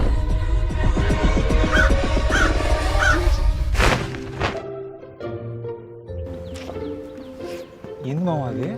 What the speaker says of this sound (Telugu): క్రో ది కాకి.